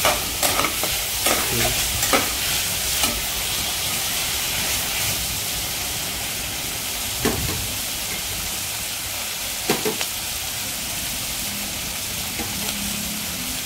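Onions and chicken fry with turmeric in a pan for a Bengali country chicken dish, giving a loud continuous sizzle and hiss, broken by a few sharp stirring scrapes.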